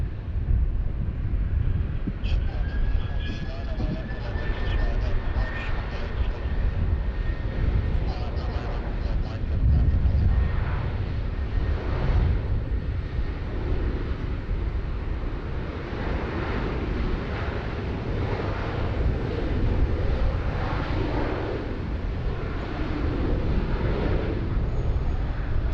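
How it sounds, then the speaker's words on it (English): A Qatar Airways Boeing 777-300ER in retro livery spools up its engines on runway 16R at Sydney Airport, a broad, steady roar with a faint rising whine early on, heard from a distance with some wind buffeting and a voice now and then. "really enjoy the spool ups down here off runway 16 right."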